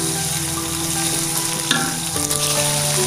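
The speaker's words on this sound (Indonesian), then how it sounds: "Kita tumis dulu bumbunya sampai harum" Spice paste sizzles steadily in a hot pan with bay leaves, lime leaves and crushed galangal, a dense continuous frying hiss with a few brief stirring clatters, close and fairly loud, for a gourami fish curry.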